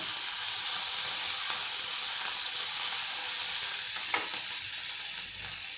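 Chili paste hits hot oil with spluttered cumin, giving a loud, even hiss and sizzle that runs unbroken from start to finish, with a couple of faint clicks of a spoon.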